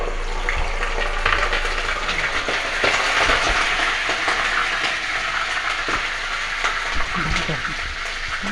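Onions frying in oil in a pan while spicy stuffed eggplants are prepared, a loud, steady sizzle with occasional stirring clatter throughout.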